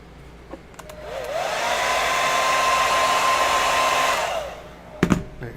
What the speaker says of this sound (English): Let's get a hair dryer.